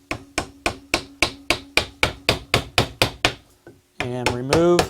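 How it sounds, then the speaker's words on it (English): A hammer strikes a wood chisel into tightly clamped wood in about fifteen sharp, evenly spaced knocks, close and loud, followed by a brief pause and then a voice. "clamp this about as tight as I can get, and simply take a wood chisel"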